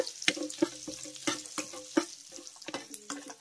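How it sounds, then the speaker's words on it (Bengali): Whole coriander and cumin seeds tempering in hot oil and butter, a soft crackling fry broken by repeated sharp taps and scrapes of a spoon stirring the pan, close and fairly quiet. "এবার এই ফোড়নগুলোকে আমি হালকা করে একটু ভেজে নেব"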